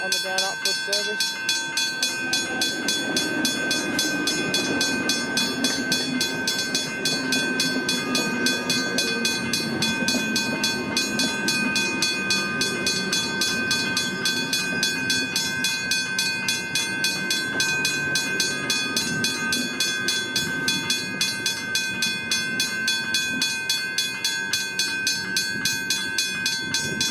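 A train passes through the Royal Park railway crossing, a broad sustained rumble of wheels on rails, while the Westinghouse hybrid bell keeps ringing in steady rapid strikes, close and continuous.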